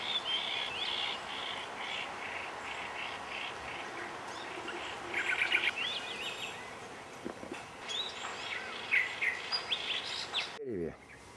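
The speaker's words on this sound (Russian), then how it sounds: "бюль-бюли на пальме" Yellow-vented bulbuls calling from a fruiting palm tree, with other birds feeding nearby: scattered bright chirps and short warbled phrases over a faint outdoor background, fairly distant, ending in a brief close rustle.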